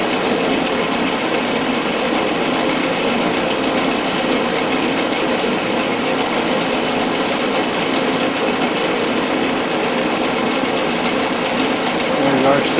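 Steady, loud whirring of a lathe parting off a plastic bushing for a pantograph, a continuous drone with faint high squeals as the cutter bites, running without a break.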